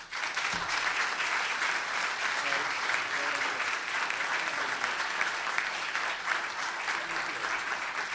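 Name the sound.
audience applause welcoming Congressman Charles Rangel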